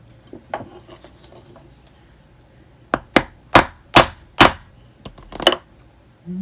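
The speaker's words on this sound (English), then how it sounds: "So we're going to hammer some holes down through here." Hammer blows punching holes through a leather belt for a scalloped design, about six sharp, fairly close strikes in an irregular rhythm after quieter handling sounds, with no talk.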